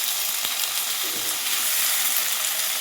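Chopped tomato hitting hot oil with ginger-garlic paste for a red lentil curry, a steady broadband sizzle of frying with a few soft stirring scrapes, close and continuous.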